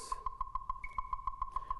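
Rapid, evenly spaced electronic metronome beeps clicking eighth-note subdivisions, about a dozen crisp pitched ticks in quick steady succession, sounding alone.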